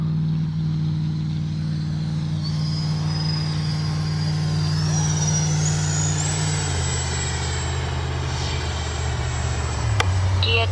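A FlyFans Su-27 RC jet with twin 64mm ducted fans gives a loud, continuous whine over a low drone, its pitch climbing and shifting as it passes slowly.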